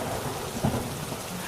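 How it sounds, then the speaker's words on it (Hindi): Heavy rain hisses steadily and loudly while a low thunder rumble swells briefly in the middle. No one speaks. "तभी अचानक फिर से भयंकर बारिश शुरू हो जाती है।"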